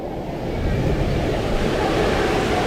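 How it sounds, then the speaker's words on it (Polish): Hail and a thunderstorm outside a window at a thermal water park in Zakopane, heard as a steady, dense broadband roar of falling hail and rain that holds evenly throughout with no speech. "Grad, pioruny."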